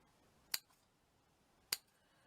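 Two sharp, quiet snips of scissors about a second apart, trimming down a handmade Christmas bauble decoration after its wire has been cut out, in an otherwise quiet room.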